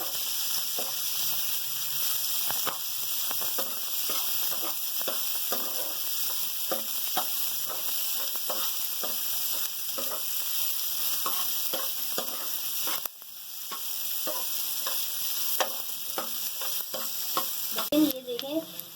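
Onions sizzle and fry in oil in a pan for Bhindi Masala, with a steady hiss and repeated clinking, scraping stirs of a spoon throughout and a brief pause in stirring partway through.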